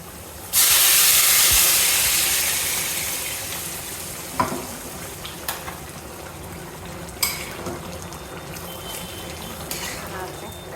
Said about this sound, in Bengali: এই পাশে পেঁয়াজ ব্রেস্তা করে নিচ্ছি